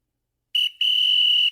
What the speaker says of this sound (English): Oh my, that's a whistle.